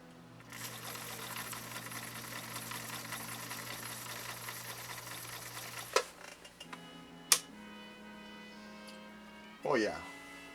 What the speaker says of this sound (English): Let's sew this one more time and see what impact we can bring.